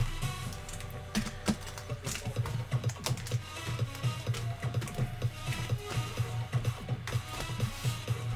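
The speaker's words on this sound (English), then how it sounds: "I'm going to shuffle them." Trading cards being shuffled by hand in a fast, steady run of riffling clicks and taps that continues without pause, close up, over a low constant room hum.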